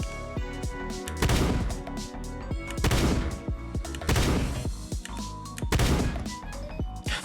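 Shotgun blasts in the video game Shortventure 3 fire in quick, punchy bursts, loud and close, with clattering impacts and overlapping effects between shots.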